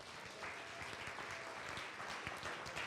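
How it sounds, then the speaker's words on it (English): An audience claps for a public works and bridge construction crew, a dense steady burst of applause at moderate distance with no talking over it. "I want to hear a round of applause for DPW and the construction crew who's putting that bridge together."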